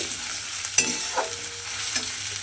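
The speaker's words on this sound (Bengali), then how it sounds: "এবারে তেলের মধ্যে আদা রসুনটা দিয়ে খুব ভালোভাবে একটু ভেজে নিতে হবে" Ginger and garlic frying in oil, a steady close sizzle broken by a few sharp scraping stirs of a spatula against the pan, with no voices.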